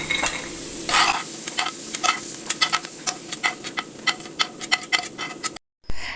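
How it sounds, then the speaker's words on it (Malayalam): Dry pan roasting with a spatula scraping and stirring in quick, rhythmic strokes over a steady sizzle, close and fairly loud, ending in a brief silence. "ഇതൊന്ന് നല്ലോണം ഒന്ന് റോസ്റ്റ് ചെയ്തെടുക്കാം"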